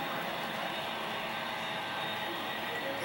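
An HO gauge model train runs steadily on an indoor museum layout, a continuous close rumble and rolling hiss with no pauses and no talk.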